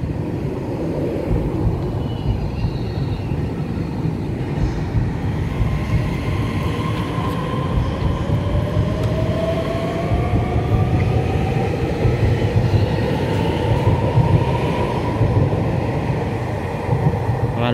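A twelve-car EMU3000 electric multiple unit runs through Fengyuan in Taichung, Taiwan, with a loud, steady rumble and rail noise and a rising motor whine, heard alone for the whole stretch.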